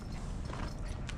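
A young horse's hooves clip-clop at a reined cowhorse show, a brief, close run of steady hoof beats over a low background rumble.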